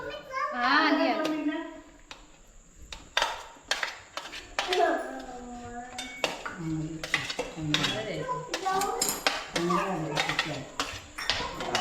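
Paneer is stirred into masala in a cooking pot, a spoon clinking and scraping against the metal in scattered strokes under ongoing adult talk and children's voices.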